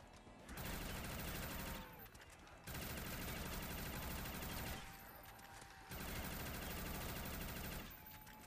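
The upgraded MB4 Reckoner gun in a modded Black Ops 1 zombies game fires in long sustained bursts of rapid automatic gunfire, with three loud stretches separated by short pauses.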